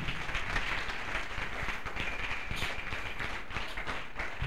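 A church congregation claps along steadily during worship, a dense, even patter of many hands filling the room at moderate loudness, with no voices standing out.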